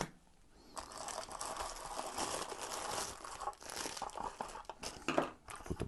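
Knife packaging is unwrapped close up, with crinkling plastic and paper rustles, tearing and handling noises coming in irregular bursts after a quiet start, with no talking.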